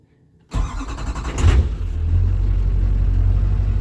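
An LB7 Duramax diesel engine, swapped into a truck paired with an NV4500 manual transmission, cranks briefly, then catches and settles into a steady, loud, low idle rumble close by.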